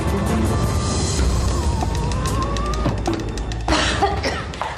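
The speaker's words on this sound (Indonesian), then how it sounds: "Tante sampai batuk-batuk begini." Woman coughing repeatedly in a dirty, dusty warehouse, a run of harsh close coughs with a sharper burst near the end.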